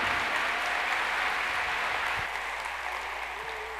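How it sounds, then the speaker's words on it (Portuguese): A conference audience at an international happiness congress applauds to welcome a speaker to the stage, a full, even wash of clapping that carries on steadily and eases slightly near the end. "Uma salva de palmas para Maria Serruá."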